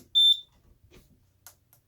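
A single short, sharp electronic beep from an Edwards FireShield fire alarm panel, high-pitched and fairly loud, followed by faint handling clicks in a quiet room.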